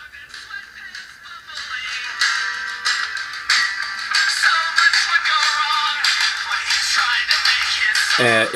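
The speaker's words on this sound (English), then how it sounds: "we're going to go ahead and play music through the watch" A Mobifox U8 smartwatch plays a song streamed from Spotify through its tiny built-in speaker, sounding thin, tinny and bass-less, steady and fairly loud throughout.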